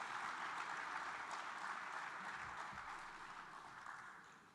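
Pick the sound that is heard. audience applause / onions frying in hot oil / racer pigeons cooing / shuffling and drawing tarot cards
audience applause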